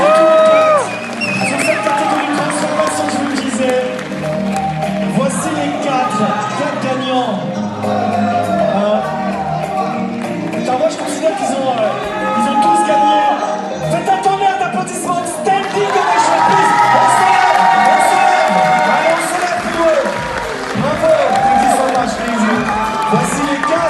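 An audience at a bodybuilding competition cheers, whoops and claps loudly and without pause, with music and some speech mixed into the steady roar of the crowd.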